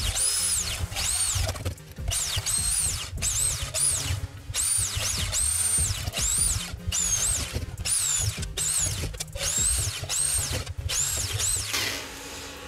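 A power drill with a 3 mm bit bores holes through a metal cooking pot, whining and squealing in repeated short bursts with brief pauses between holes, loud and close with no talk.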